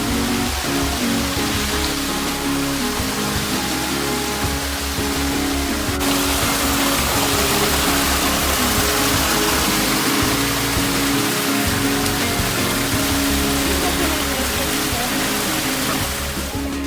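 A waterfall roars continuously, a dense, steady wash of rushing water filling the whole stretch with no breaks.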